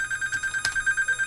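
Electronic telephone ringing in a quick pulsing pattern, a steady repeated tone with a brief click partway through, close and clear.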